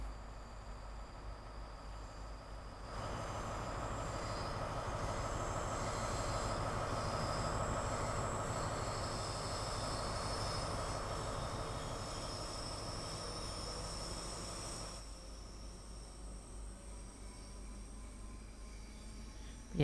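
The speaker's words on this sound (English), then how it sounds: "Right, train brake is released. And let's go." A Heathrow Express replacement train in Train Sim World 2 pulls away after brake release, with a steady rolling rumble and wheel noise that swells in the middle and eases off, no talking.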